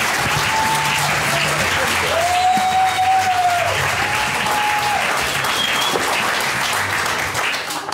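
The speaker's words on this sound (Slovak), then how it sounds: "prosím, obřím potleskem přivítejte Marka Božka" An audience at a stand-up comedy show gives loud, sustained applause to welcome the comedian, a thick wash of clapping from many hands across the whole stretch.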